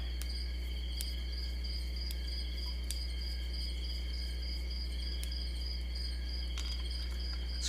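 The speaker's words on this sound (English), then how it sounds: "These crickets are making me sleepy." Crickets chirp steadily in a constant high trill, with faint clicks over a low electrical hum.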